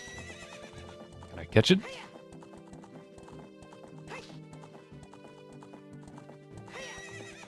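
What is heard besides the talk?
horse galloping and neighing in Zelda 64 video game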